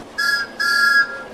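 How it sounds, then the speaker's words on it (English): A railway guard gives two blasts on a shrill whistle, a short toot then a longer one, loud and clear with no voices. "The guard blew his whistle,"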